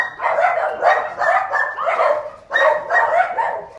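Several dogs bark and yip continuously during a pack walk, their agitated, overlapping barks close and loud across the whole stretch.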